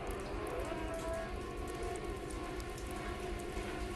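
Rain falls in the video game A Deceptive Story, a steady dense patter that holds without a break, with a low rumble underneath and no voices.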